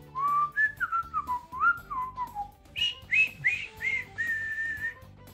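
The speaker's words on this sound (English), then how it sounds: "They like to whistle." Someone whistles a lively tune close by, with bright, sliding notes that rise higher toward the end.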